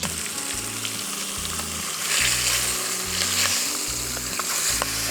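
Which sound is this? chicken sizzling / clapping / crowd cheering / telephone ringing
chicken sizzling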